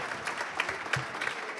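Audience applause at an awards gala, a brief burst of dense clapping from a crowd in a hall.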